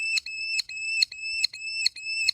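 A merlin falcon's conversational chattering call: a high, thin, regular series of about six sharp chirps, close and clear with no other sound.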